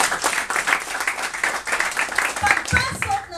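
Applause from a crowd at a seminar on becoming a top earner, a dense patter of clapping that runs throughout and mixes with voices and cheering toward the end.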